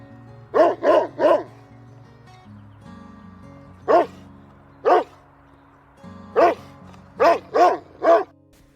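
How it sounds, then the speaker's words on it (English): A dog barks repeatedly in short bursts, some in quick doubles and triples, close and loud with quiet gaps between. "Dog 狗。"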